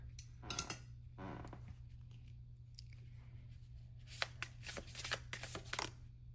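Archetype oracle cards being shuffled in short bursts of crisp riffling and flicking, close and quiet over a steady low hum, with a denser run of shuffles toward the end.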